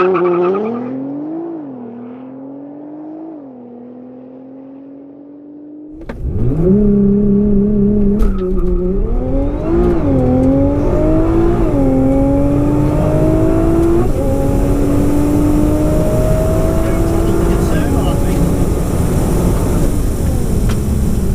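A 666 bhp Nissan GT-R and a 700 bhp Audi RS6 launch in a quarter-mile drag race: a quiet idle gives way to a sudden loud roar, then engines climb through repeated rising gear sweeps with tyre squeal over a sustained high-powered drone.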